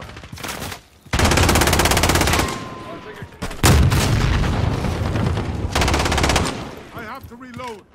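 Loud bursts of automatic gunfire and explosions from the video game Call of Duty, with dense rapid firing in several long volleys separated by brief pauses.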